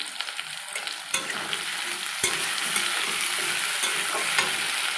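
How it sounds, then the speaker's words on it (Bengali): Soybean curry frying and being stirred in a pan, with a steady close sizzle and scraping stir strokes, including a sharp clatter just past two seconds, and no talking. "ভাজা হয়ে যাচ্ছে"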